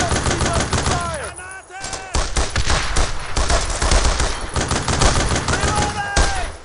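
Rapid machine gun bursts and scattered gunshots crackle continuously in the Brothers in Arms World War II shooter, loud and dense, with soldiers shouting between volleys.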